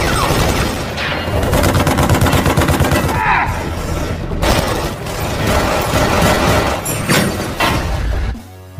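Rapid gunfire crackles through an action film fight scene as a shooting team takes down a gang's henchmen one by one, dense loud bursts over a thick, busy soundtrack with brief pauses and a sudden cutoff at the end.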